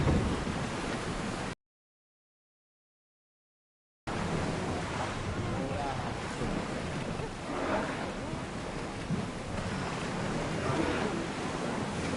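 A sailing ship crossing open ocean in Assassin's Creed Odyssey, with loud steady surf and wind rushing past, cut by a brief silent gap before the waves resume.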